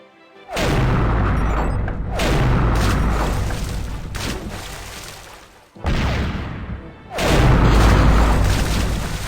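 Cannons fire from a pirate ship in the Curse of Monkey Island game, four heavy booming blasts each followed by a rumbling decay, spaced a couple of seconds apart.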